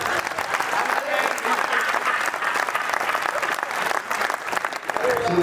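An audience at a Marwadi Yuvak Mandal poetry gathering in Gondia breaks into loud, sustained applause, a thick unbroken wash of clapping that holds for several seconds.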